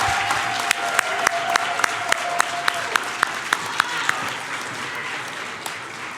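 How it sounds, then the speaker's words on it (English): Audience applause at the Chicago MLK Jr. Oratory Competition, a steady full-room clapping that runs the whole stretch with a few sharper nearby claps standing out, while a faint sustained tone lingers underneath early on. "One more round of applause for all of them, please."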